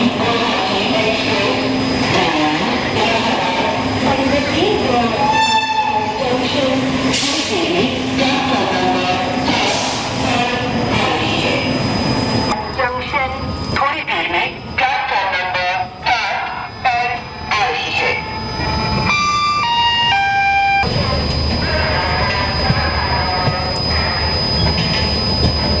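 The Ranchi Rajdhani Express pulls away on its Ranchi to New Delhi run, loud and close from on board, with rolling wheel rumble, metallic clanks and squeals, and shifting rail noise over about 26 seconds.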